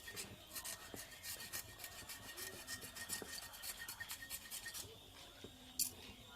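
A rag rubs and scrapes over a motorcycle cylinder block in rapid, uneven strokes, close and fairly quiet, with light scratchy friction and a small clatter near the end.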